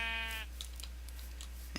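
Sheep in the Minecraft TerraFirmaCraft mod give one clear, close, harmonic bleat at the start, followed by faint scattered game clicks and ticks over a steady low hum.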